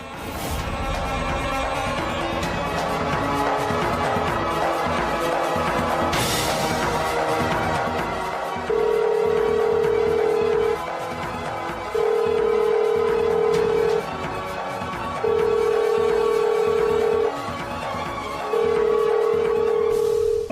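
A telephone being called in a domestic drama scene: a string of evenly spaced ringback or ring tones, each about two seconds long, sounds over steady background music.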